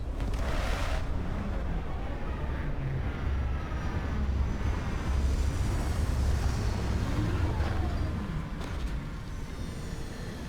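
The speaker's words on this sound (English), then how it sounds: "Landing struts primed. Retros firing." Retro thrusters fire on a spaceship coming in to land in the Starfield video game, a steady, loud, broad roar that rumbles continuously through the whole stretch with a few brief hissing bursts.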